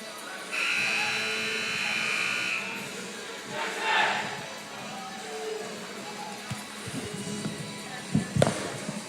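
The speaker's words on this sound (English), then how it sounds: "we heard the buzzer." A long electronic buzzer sounds in a school gym during a WIAA Division 2 team sectional wrestling dual meet at Evansville, steady for a couple of seconds over crowd murmur, followed by scattered thumps and noise.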